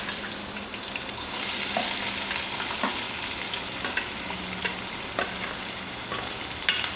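Onions frying in hot oil for a homemade tomato curry, a steady close sizzle with a few soft spatula scrapes and clicks, no talking.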